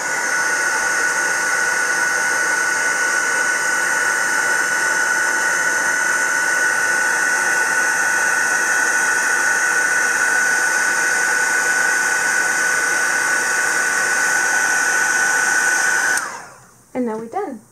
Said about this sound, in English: we have the heat gun going. Just heating up the heat gun